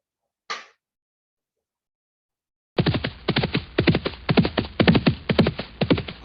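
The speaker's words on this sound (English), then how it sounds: "Horse riding." After a brief knock and a pause, horse hooves clip-clop rapidly and rhythmically on a hard surface, close and clear.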